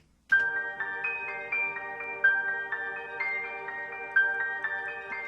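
A synth arpeggiator cycles through a quick repeating pattern of bright notes over a sustained chord, steady and moderately loud with a wide stereo feel.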